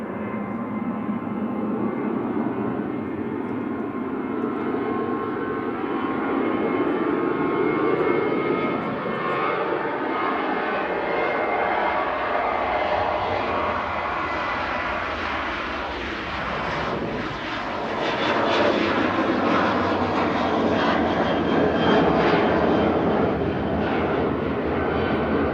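Malta Air Boeing 737-800 jet departing Manchester Airport for Brussels, a steady broadband engine roar that swells and holds for the whole stretch, loud and continuous without any talk.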